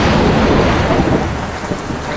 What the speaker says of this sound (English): Because it's raining more inside than it's outside.